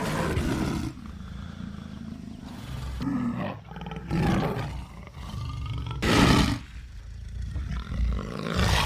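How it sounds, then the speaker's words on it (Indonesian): A black panther lets out loud, deep roars in a jungle chase scene from the film Apocalypto, several bursts separated by short pauses, up close and unaccompanied by speech. "melihat seekor macan kumbang di depannya"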